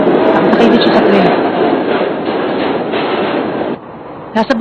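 A train runs with a steady loud rumble and rhythmic clatter, a sound effect in an anime dub, dropping away near the end as a voice briefly speaks.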